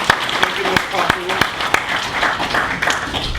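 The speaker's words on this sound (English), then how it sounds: "I think we should give Jessica a round of applause" Audience at a public tour event for the Blue Lake expansion project clapping in a round of applause, steady mid-distance patter with a few sharp close claps, speech mixed in.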